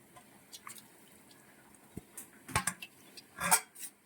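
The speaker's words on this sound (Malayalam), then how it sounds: "അല്പം വെള്ളം കൂടി നമ്മൾ തളിച്ചു കൊടുക്കുവാണ്." Water sprinkled by hand over grated coconut in a pot for a jackfruit dish, heard as faint scattered drips and a few soft metallic clinks of the pot, close by and quiet.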